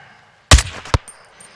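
Sniper rifle shots ring out in Modern Warfare II, a prison-break mission: one loud sharp crack, a second shot soon after, then the start of a third, each standing alone with brief silence between.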